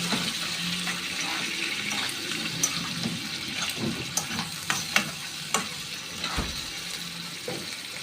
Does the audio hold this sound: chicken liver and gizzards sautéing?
yes